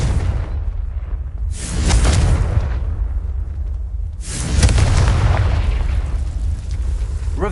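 Blasting spell explosions from Confringo in Hogwarts Legacy: two heavy booms a few seconds apart, each a loud burst with a rolling rumbling tail, set against a low continuous game ambience.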